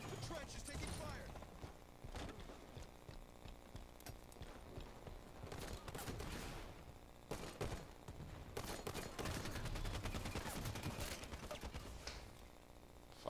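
Heavy gunfire from Halo 5 Guardians multiplayer crackles in dense bursts throughout, with bigger volleys around the middle and later, over a constant loud battle din.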